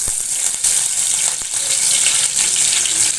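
Garlic cloves and curry leaves sizzle in hot oil in a kadhai, a steady bright frying hiss that runs close and loud throughout, with a couple of sharp clicks near the start.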